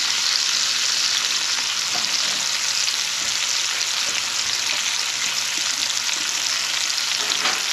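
Venison roast searing in a hot pan, a steady, loud broadband sizzle that holds constant throughout with a few faint clicks and shifts underneath, no voices present.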